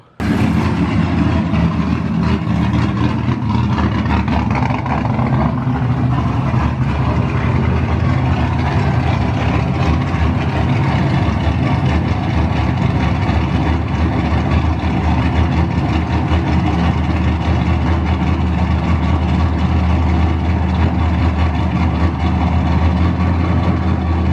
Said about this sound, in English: it seems to be idling where a cold start idle should be idling